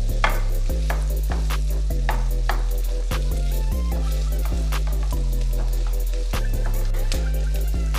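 Onions and cashews sautéing in a pan, with steady sizzling and rhythmic stirring scrapes repeating through the whole stretch, close and fairly loud, no talk.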